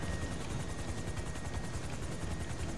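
Steady, loud helicopter rotor drone in a video game, continuous broadband thrum with rapid chopping pulses throughout and no talking.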